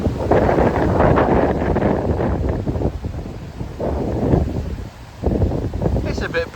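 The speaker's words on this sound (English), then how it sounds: "It's a bit blowy today." Gusty wind buffets a microphone outdoors, heavy low rumbling bursts that swell and drop in uneven waves, with a voice faintly under it.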